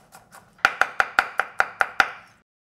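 Garlic cloves minced with a knife on a cutting board, a rapid, even series of about eight sharp close chops after two softer taps, with no voices.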